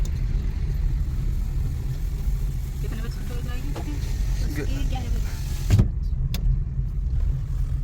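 A car drives along with a steady low rumble of engine and road noise from inside the cabin, a brief louder thump near the end, and people talking faintly under it.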